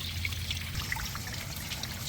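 Water back-flushes through a heater core hose on a 2017 Dodge Ram 6.7 Cummins pickup, a steady, even trickle and splash running on without pause.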